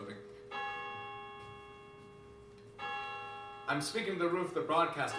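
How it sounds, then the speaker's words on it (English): Bells ring out in long sustained peals as an evacuation warning over New York City, heard from a rooftop, with a faint noisy backdrop, then a voice starts speaking. "The bells you hear are ringing to warn the people to evacuate the city"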